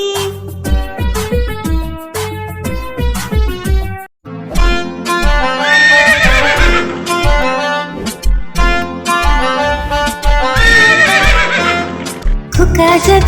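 Horse whinnies and clip-clopping hooves ring out within a lively Bengali nursery rhyme's musical backing, loud and repeated across the whole stretch.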